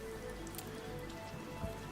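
A rain sounds recording plays as a soft, constant patter of raindrops on a surface, with a faint low hum underneath and no speech.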